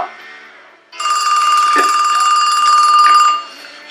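Telephone rings alone at close range in one long steady electronic trill lasting over two seconds, following brief quiet conversation in a room.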